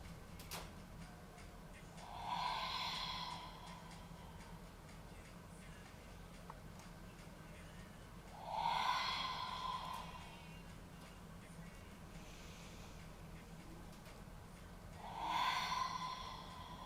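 Three slow, forceful breaths are pushed out during an abdominal exercise, spaced about six seconds apart, close and breathy over a quiet background hum.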